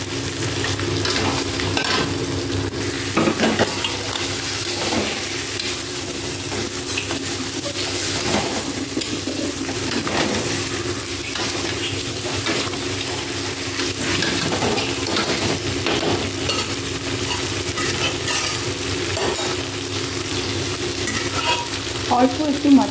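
Ginger-garlic paste with onion and dried chilli fries in a pan with a loud, constant sizzle. Stirring scrapes run through it and a steady low hum sits underneath, with no voices.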